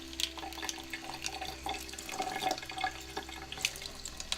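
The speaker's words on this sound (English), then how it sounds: "I'm just going to put the water on" Water trickles and drips as it is poured onto an indoor succulent and drains through the drainage hole of its pot, soft and close, with small splashes over a low background hum.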